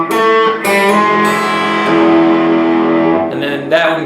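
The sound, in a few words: electric guitar playing a riff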